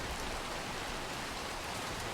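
Rain falling in the video game Little Nightmares 2: a steady, even hiss of raindrops that holds at moderate level without a break from start to end.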